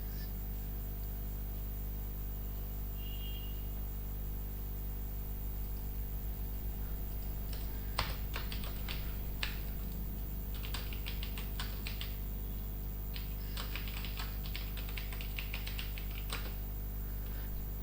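Keys clatter on a computer keyboard in bursts of quick, irregular taps after a quiet start, fairly close over a steady electrical hum, with no talking.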